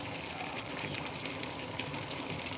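Carrots and beans fry in a pan, giving a soft, steady, even sizzle throughout, quiet and close, with no talking.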